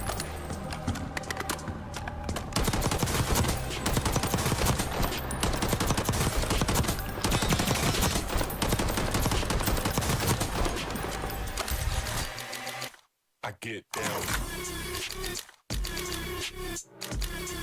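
Video game gunfire with iron sights rattles in dense, continuous rapid bursts, loud and close, then breaks into shorter volleys separated by brief silences.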